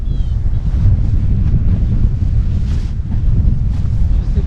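Strong wind buffets the microphone during a paraglider landing, a loud, rough, continuous low roar with gusty surges, dominating with no clear speech.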